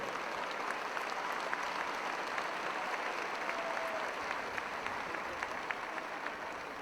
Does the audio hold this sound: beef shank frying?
no